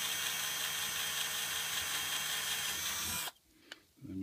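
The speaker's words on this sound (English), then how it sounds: "we've got a 4mm drill bit. Just gonna put it through probably three times" A power drill with a 4mm bit whirs steadily through thin wood for about three seconds, then cuts off abruptly, followed by a brief click and a short mechanical rattle.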